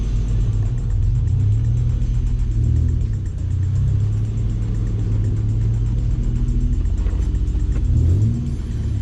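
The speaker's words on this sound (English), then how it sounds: "First time driving under its own power since 2011." A turbocharged Mazda MX-3 drives under its own power in a parking lot, its engine giving a loud, close, steady rumble with slight rises in pitch as it pulls along.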